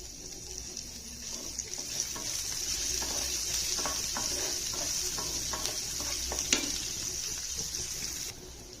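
Cumin seeds and green chillies fry in about three spoons of hot oil with a steady hiss and sizzle, scattered small crackles and pops, up close and without talk.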